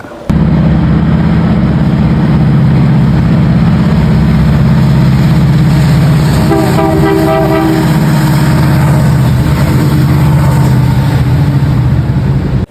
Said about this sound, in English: so let's get to the CN train that came next, and I was on the bridge for it